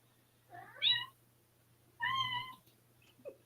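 A cat meows twice indoors, a short rising call followed about a second later by a fuller one, fairly close and clear over a low steady hum, with a faint rustle at the end.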